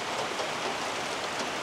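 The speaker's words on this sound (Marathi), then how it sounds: "हे बघा पाऊस" Steady rain pours at a weekly village market in Dhebewadi, a dense, even hiss of drops on surfaces that stays constant and fairly loud throughout with no one talking.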